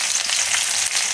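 Mustard seeds, curry leaves and chillies hit hot oil in a pan for green chana poha, giving a loud close crackling sizzle with sharp pops over a steady hiss.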